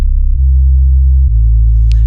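A sub bass synth patch holds deep, smooth low notes, stepping between pitches in a short loud phrase, with a faint click near the end.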